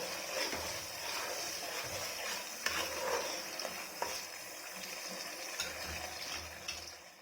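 Fish curry with mustard being stirred in a pan, a spoon scraping and clattering against the metal over a low, steady sizzle. The sound is close and moderately quiet, with no talking.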